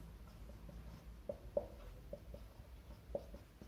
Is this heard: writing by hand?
yes